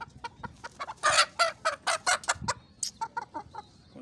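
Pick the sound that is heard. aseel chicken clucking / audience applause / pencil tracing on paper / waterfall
aseel chicken clucking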